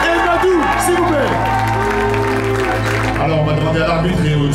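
An audience claps and cheers at an amateur boxing event in Drancy, loud and sustained throughout, with an announcer's voice over the crowd.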